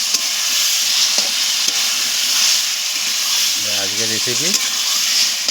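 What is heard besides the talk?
mango-marinated chicken being sautéed and stirred in a pan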